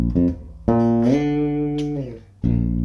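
Electric bass notes ring out close and clean in a groove, a short plucked note, then a sustained note that slides up in pitch and holds, followed by a fresh attack after a brief gap.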